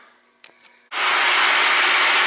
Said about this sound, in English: So let's get the vacuum out.